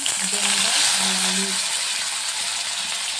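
Panch phoron spices sizzle and crackle in hot oil in a heated kadai, a loud steady frying hiss with a few faint clinks, and no voices.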